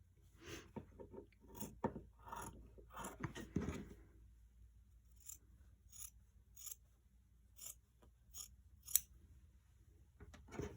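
Scissors snip through fabric just above placement stitches for a ribbon, a series of close, crisp cuts, with dense quick snips early on, then sparser separate clicks with quiet gaps between them.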